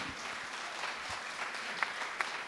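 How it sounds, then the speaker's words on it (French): Audience applause fills a hall during an open-floor exchange, a steady, fairly quiet patter of many hands with a couple of sharper claps standing out near the end. "vous êtes très applaudis"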